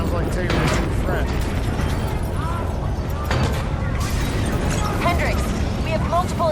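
Rumbling explosions and bursts echo across a facility in a Call of Duty: Black Ops 3 cutscene, loud and continuous, with voices talking over the blasts.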